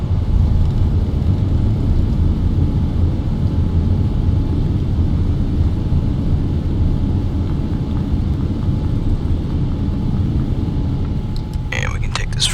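Thrust reversers roar on a Boeing 787 after touchdown in Microsoft Flight Simulator, a loud steady low rumble of engine thrust holding for the whole stretch, with a few clicks near the end.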